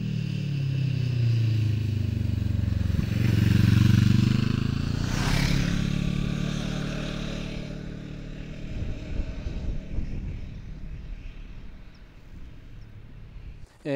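A Benelli TRK 702 700cc, 70-horsepower motorcycle engine runs with a deep rumble that swells, then gradually fades away, leaving a softer idling rattle.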